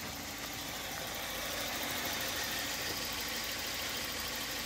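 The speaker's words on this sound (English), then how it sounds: "The engine is mechanically sound and runs very, very nice." A 1994 Volvo 940 engine idles in a steady, low rumble with a faint mechanical clatter, heard up close and unchanging throughout.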